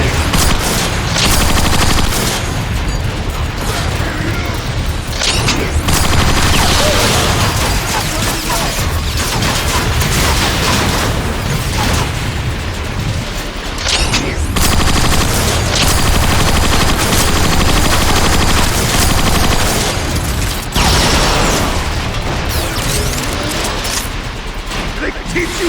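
Intense battle in Transformers: Fall of Cybertron: loud, continuous gunfire and mechanical clatter with repeated bursts and impacts from incoming rockets, close and dense throughout, with voices shouting over the combat.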